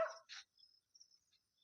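A dog gives a quick bark or two, faint and distant, followed by quiet.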